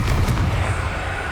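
Confringo spell blast in the Hogwarts Legacy video game on PS5, a loud dense rumbling explosion that fills the whole moment and slowly tails off.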